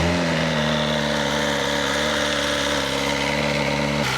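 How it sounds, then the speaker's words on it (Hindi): A motorcycle engine idling steadily after being started, a loud, even mid-pitched drone with a slight change near the end. "finally it's time to start the motorcycle"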